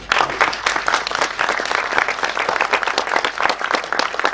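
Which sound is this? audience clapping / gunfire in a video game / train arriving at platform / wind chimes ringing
audience clapping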